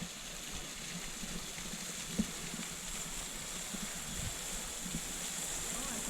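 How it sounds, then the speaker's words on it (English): A waterfall on a river near sandstone buildings in Hot Springs, South Dakota, makes a steady, soft, distant rush of falling water, with an occasional faint knock. "and there's a waterfall."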